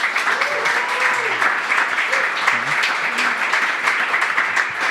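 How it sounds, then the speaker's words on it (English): Live podcast audience applauding at the close of a show, a dense, steady wash of clapping with voices mixed in, holding at an even loud level throughout. "Clap."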